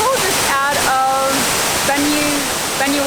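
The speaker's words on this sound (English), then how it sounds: "brought us to a waterfall just out of" The Jagir waterfall just outside Banyuwangi roars as a loud, dense, constant wash of falling water, close by, with voices talking over it.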